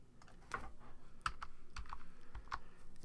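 Quick bursts of keystrokes on a computer keyboard entering a value in photo-editing software, a few soft clustered taps close by with short pauses between, no talking.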